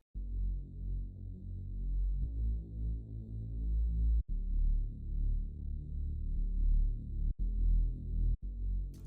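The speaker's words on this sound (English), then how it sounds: "My bass was like this, and this is my bass." A heavy, low preset synth bass throbs in a steady pattern with brief cut-offs between phrases, loud and up front with no other instruments.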